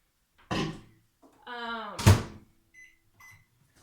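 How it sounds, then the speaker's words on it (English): A microwave oven door thunks shut, a short electronic beep follows, then a louder clunk and a few faint beeps, close by in a quiet room. "let me get this in the microwave to get it warming"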